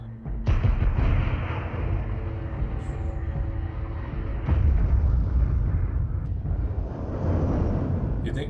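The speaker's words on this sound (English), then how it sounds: "Artillery team, please commence fire support." Artillery fire support in an anime battle scene: a dense, rumbling barrage of heavy booms with strong onsets at the start and midway, continuous and loud throughout.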